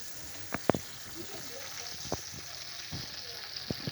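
White hake frying Moroccan-style in a pan gives a steady, moderate sizzle broken by several sharp pops and crackles, with a voice speaking faintly in the background.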